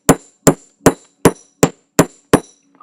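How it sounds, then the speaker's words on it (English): Seven sharp, evenly spaced hammer strikes on the back side of a metal jewelry blank, flattening it, each a crisp close ringing tap with nothing else heard. "I'm going to hammer the back side of my blank"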